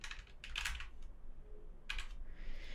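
Typing on a computer keyboard while writing HTML code, with two short bursts of rapid, close key clicks separated by a pause, quiet and alone.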